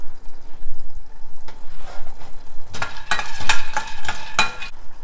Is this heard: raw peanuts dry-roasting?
yes